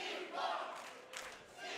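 Wrestling fans at the United Irish Cultural Center shout and cheer to rally C4 during a tag match, a dense roar of voices that swells and holds steady throughout.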